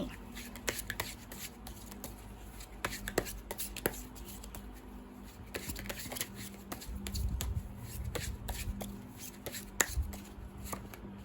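Tarot cards are shuffled at a Thai reading, with soft riffles, taps and card snaps scattered quietly across the stretch and some faint room noise.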